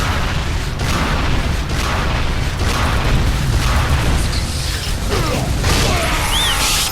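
In the Unreal Tournament 3 Warfare map Avalanche, rockets fire and explode in loud, dense booms over constant mechanical game noise and rumbling, with a few whooshing effects near the end.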